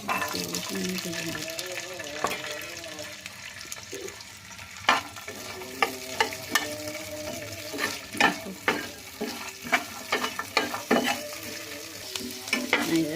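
Boiled yardlong beans fry in mustard oil in a hot pan on the stove, a soft sizzle under repeated scraping and clattering stirs that grow busier toward the end.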